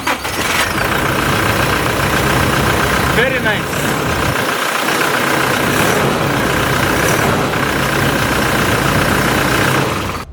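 A 2015 Toyota Hilux TRD Sportivo with its turbocharged engine idles in a steady, close, even rumble that holds for the whole stretch, with a brief spoken comment near the end.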